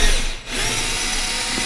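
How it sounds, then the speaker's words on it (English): A power drill bores through a 3D printer frame into a table, a loud continuous whine with a brief dip near the start before grinding on steadily. "Then you take a drill and just"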